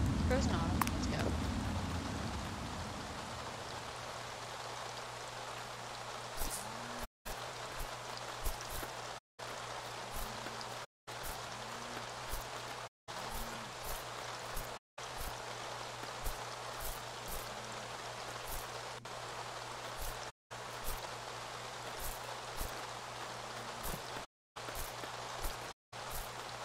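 Steady rain falls in the Staxel video game, a continuous hiss of drops that runs throughout under a low hum and repeated short dropouts, with no talking.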